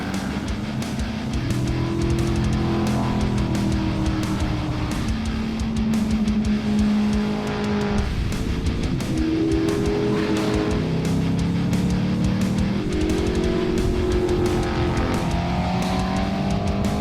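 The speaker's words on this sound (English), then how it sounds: "event kicked off Saturday morning with the Fleet Pro quarter mile roll racing" Race cars running quarter mile roll races at a runway event, engines droning loudly and continuously with rising and falling revs as gears change, several cars overlapping throughout.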